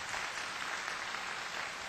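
A church congregation claps together for a guest speaker's wife during an evening service, giving a steady, dense round of applause that fills the room for the whole stretch, with no voices heard.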